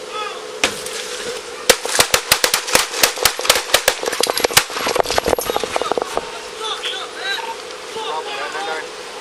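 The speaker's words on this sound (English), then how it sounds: "The gun remains in Garcia's lap after the shooting." Police gunfire during a shooting: a rapid, loud burst of many sharp shots in quick succession, with officers shouting over and between the reports.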